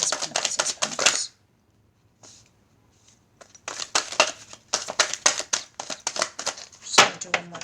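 Tarot cards being shuffled in quick, crisp bursts of riffling and flicking, with a short pause near the start before dense card-shuffling sounds resume and continue.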